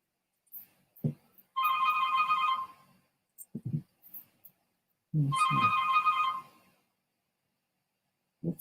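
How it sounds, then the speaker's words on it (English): A phone ringtone sounds in two electronic ringing bursts about a second long each, separated by a pause, with faint knocks and handling noises in between in an otherwise quiet room. "That's the McRae Kingz phone."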